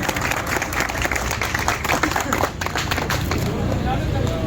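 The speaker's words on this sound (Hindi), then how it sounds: "ताली से स्वागत कीजिए" Crowd in Bhagalpur clapping to welcome the new mayor, loud uneven applause mixed with crowd babble and voices talking close by.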